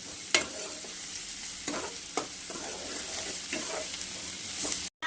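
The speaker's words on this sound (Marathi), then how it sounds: "आता ही कांदा आपल्याला मस्त परतून घ्यायचा" Finely chopped onion sautés in oil, a soft continuous sizzle broken by several spoon scrapes and taps against the pan, with a brief dropout near the end.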